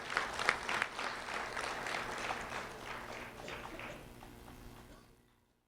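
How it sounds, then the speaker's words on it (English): An audience applauds a high school senior at a ceremony, with a burst of many hands clapping that starts strong, gradually thins and fades away into silence. "A round of applause for Katiuska Perez"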